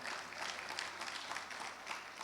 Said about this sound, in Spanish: Denle más fuertes aplausos al Señor.